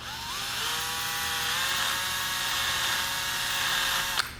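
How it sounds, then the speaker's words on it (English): A screw head spins in a power drill while being ground down against a file or sander, a loud, steady whining grind lasting several seconds before a sharp scrape as it stops. "we can put it in our drill there and make the diameter of the head much smaller using a file or a sander."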